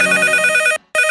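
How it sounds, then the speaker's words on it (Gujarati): Telephone ringing during a Gujarati comedy radio show, a loud electronic trill pulsing steadily before a brief gap and another ring. "ફોન આવ્યો"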